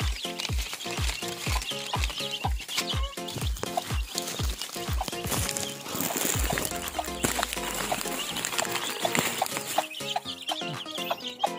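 A flock of chickens clucks steadily up close, with rapid repeated calls and some scratching patter, a brief low rumble midway.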